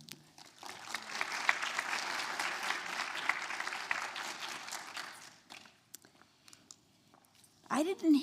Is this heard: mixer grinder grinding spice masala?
no